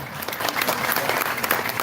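Audience at a Maulid Nabi religious gathering in Karawang clapping together, a dense burst of applause close by, with a voice talking over it.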